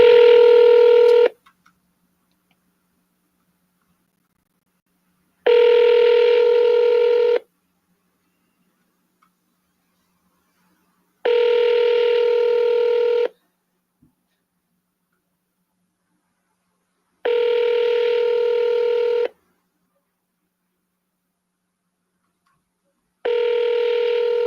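Telephone dialing tones while calling a seller: four steady tone bursts of about two seconds each, evenly spaced by roughly four-second gaps of silence, loud and clear with no talk.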